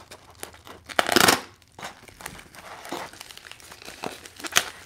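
Mail envelopes holding graded cards are handled and torn open, with a loud crinkling rip near the start followed by scattered paper rustles and crinkles close by, no speech.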